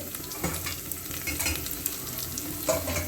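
Cashews sizzle and fry in a pan while being stirred, with scraping stir strokes over a steady crackling hiss, close and alone without talk.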